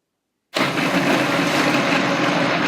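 After half a second of silence a blender kicks on and whirs loudly and steadily, close by, blending carrot cake spiced pancake batter.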